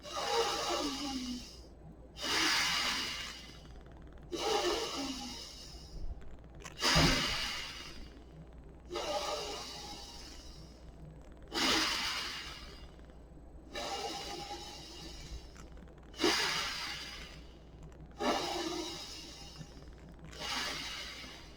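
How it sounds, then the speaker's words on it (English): Slow, deep nasal breathing exercise: about ten evenly spaced breath cycles, each a soft inhale followed by a long airy exhale through the nose, close and quiet, with no talking. "nasal only for everything. So first, easy in, deep, long exhale."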